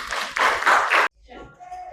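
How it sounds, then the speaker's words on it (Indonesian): A class of students clapping hands together in an Indonesian classroom lesson, a dense burst of brisk claps lasting about a second before cutting off sharply, followed by faint low voices. "Ya, tepuk tangan untuk semuanya."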